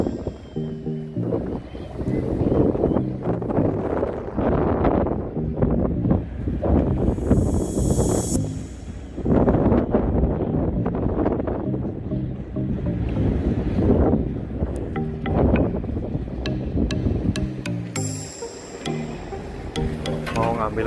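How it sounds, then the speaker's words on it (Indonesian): Gusty wind buffets the microphone at a harbour during the towing of a broken-down anchovy fishing boat in South Korea, with boat engine and water noise underneath and voices talking intermittently. "anginnya juga kenceng"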